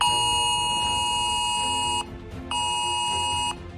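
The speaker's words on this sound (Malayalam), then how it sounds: "ഫോണിൽ നിരനിരയായി വരുന്ന അലർട്ട് മെസ്സേജുകൾ" Emergency alert messages sound from a phone during a period of missile attacks, two long, loud, steady electronic tones, each lasting over a second with a short gap between them.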